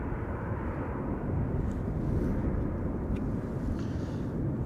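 A KLM passenger jet at Schiphol Airport gives off a continuous deep engine rumble at moderate distance, steady throughout, with no talking.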